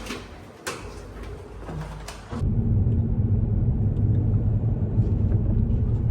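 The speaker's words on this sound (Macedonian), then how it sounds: "Најмалиот и најспориот лифт на цел свет." A very small, slow elevator is running, with a low, steady mechanical rumble and hum. A few clunks and a sliding, door-like sound come first, then the loud drone carries on evenly.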